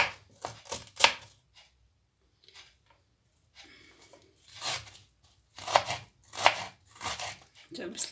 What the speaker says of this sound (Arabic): البصله تنحاول تنقطعها نفس الحجم ديالها ديال الخيس والكرفس باش يجيوني مساجمين